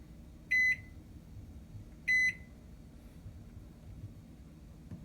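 Two short, loud electronic beeps from the control-panel buttons of a Toshiba ML-EM45P countertop microwave oven, spaced about a second and a half apart, each sounding alone over a low background hum.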